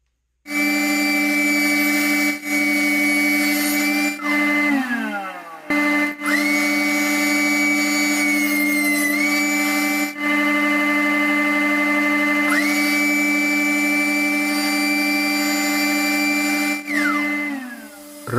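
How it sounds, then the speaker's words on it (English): Wood planer flattening boards for a cutting board, a loud steady motor whine with cutter-head tones that drop and recover as each board feeds through, with brief gaps between passes. "Now I'm running it through my planer, and basically what I'm doing is I'm flattening it on one side"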